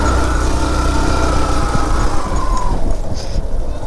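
A Hero motorbike engine runs loud and close in a steady, even drone that eases off slightly near the end, with no speech.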